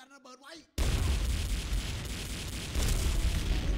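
A grenade blast in the XSHOT first-person shooter game bursts out suddenly after brief talk and sustains as a loud, broadband roaring rumble with heavy low-end for several seconds.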